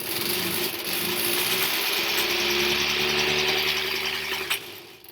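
A sewing machine stitching steadily around a foundation paper pieced quilt block, a loud continuous mechanical whirr with a rhythmic rattle that slows and stops near the end, no talking.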